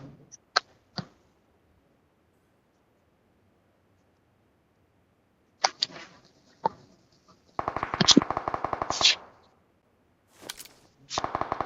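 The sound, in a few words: gunfire in the video game PUBG Mobile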